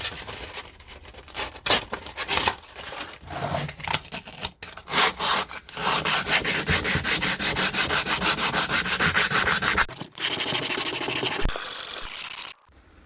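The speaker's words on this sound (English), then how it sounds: "So it's been a few hours of sanding" Rhythmic hand sanding with 120 grit sandpaper rasps across a carbon fibre part for a Ford Cortina, the strokes close and steady, speeding into a fast even scrubbing before stopping abruptly.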